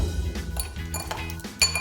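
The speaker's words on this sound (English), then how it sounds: "So adding some ice cubes in there. You might want to take a spoon Stir that up all fancy like." Ice cubes clink and rattle against a glass as a spoon stirs a cocktail, a quick run of bright, close, irregular taps and rings with no talking.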